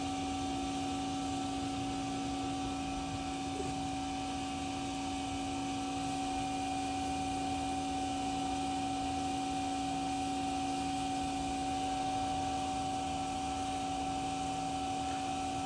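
An Aiper Scuba S1 robotic pool cleaner, running after a battery repair, gives off a steady, even motor hum with constant tonal whine, unbroken and alone throughout.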